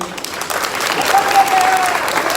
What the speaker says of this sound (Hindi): इस पर जो लोग विश्वास कर रहे हैं जरा वो ताली बजा दे पहले।